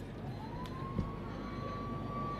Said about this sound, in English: On the siren too